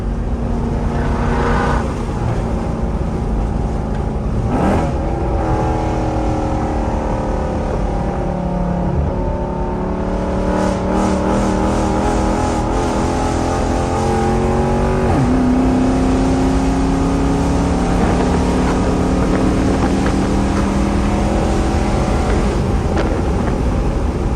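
A rebuilt Dodge Charger with a 392 runs close and loud, the engine rumbling and revving up and down in repeated rising and falling sweeps, with no talking.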